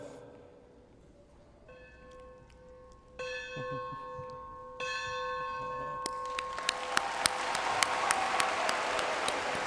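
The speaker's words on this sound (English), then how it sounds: "The bell ringing at commencement symbolizes the student completing and earning the bachelor's degree." Commencement bell rung at a Jacksonville State University graduation, single clear strikes that ring out and decay, several in sequence, with applause from the crowd swelling beneath the later strokes.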